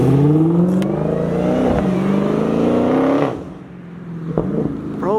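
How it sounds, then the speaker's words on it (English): A brand-new Dodge Challenger Hellcat with a Legmaker intake and stock exhaust revs loudly and close, its engine note climbing in a long sweep for about three seconds before dropping back to a rougher, quieter idle with a couple of short blips. "for stock exhaust, that sounds so good"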